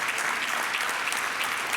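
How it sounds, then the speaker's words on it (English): A room of people at a Rotary club meeting gives a round of applause, dense steady clapping filling the short moment without speech. "let's give Bob a round of applause for that"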